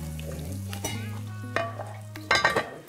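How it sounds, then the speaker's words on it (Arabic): Zucchini fries in a pan in a home kitchen, with a loud, close sizzle and stirring scrapes, under a steady low tonal hum. No one speaks. "محمد الكوسه اللي بتقلى اتوقع الكوسه بيرفكت عندي"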